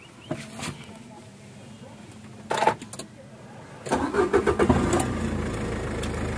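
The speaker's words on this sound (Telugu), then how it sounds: "సింగిల్ సెల్ఫ్ లో అయితే కార్ స్టార్ట్ అవుతుందండి" 2013 Nissan Sunny XV car with about 156,000 km starting on a single crank: a few clicks and a brief cranking burst, then the engine catches and settles into a steady idle.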